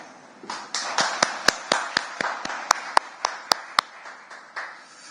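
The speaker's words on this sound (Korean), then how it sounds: "그동안 고생하신 여러분께 서로 박수 한번 크게 치면서 시작하시죠." Journalists at a press meeting with the National Assembly speaker clap together. A soft wash of group applause rises under a run of loud, sharp close claps, roughly a dozen in an uneven rhythm.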